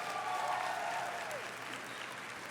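Soft, steady applause from a graduation audience at a high school ceremony, faint and continuous, with a brief voice or tone near the start.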